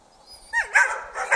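Swedish Elkhound (Jämthund) dogs give a few close, short barks mixed with high whimpers, loud and clear, with no talking over them.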